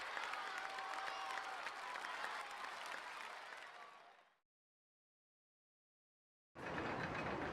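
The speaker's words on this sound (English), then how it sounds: "Everyone clapped." Crowd applause from the Xbox game Rollercoaster Tycoon: a dense, steady wash of clapping that cuts off abruptly into silence, then resumes loudly near the end.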